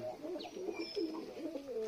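Soft, low pigeon cooing repeats in gentle throaty phrases, close by, from a Lakka pigeon with a chick, with a faint higher chirp in the background.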